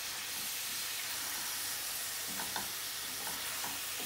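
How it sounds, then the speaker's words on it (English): Keski fish frying in a Bangladeshi curry while being stirred gently, a constant soft sizzle and hiss with a few light scraping taps toward the end, no talking. "So when you're stirring it, make sure you stir it carefully, because the fish can break."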